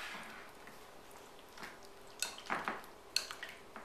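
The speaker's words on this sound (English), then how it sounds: "we're going to add our heavy cream and butter on top and just whisk until it's all combined" Chocolate, heavy cream and butter being whisked together in a bowl, soft wet stirring with scattered metallic clinks and taps that grow a little busier toward the end, quiet and close.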